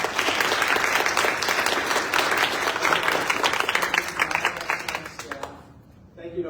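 Panel audience at a public service forum claps loudly and steadily for the panelists, the applause holding strong for about five seconds before fading quickly into near-silence.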